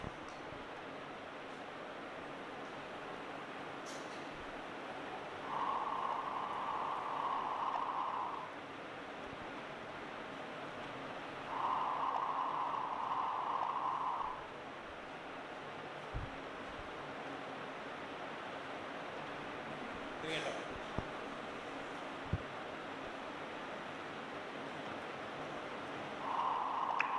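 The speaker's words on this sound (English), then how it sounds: "So first what you hear is the noise from the detector." Gravitational-wave detector output turned into sound: a steady, faint hiss of detector noise with a few brief brighter swells and a couple of soft low thuds, with no voices.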